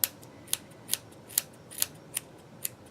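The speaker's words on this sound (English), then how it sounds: "now these are my doll hair cutting scissors" Old sewing scissors, now used only on dolls, cutting short spiky doll hair: a series of about eight crisp, quiet snips at an even pace against a faint hiss, with no voices.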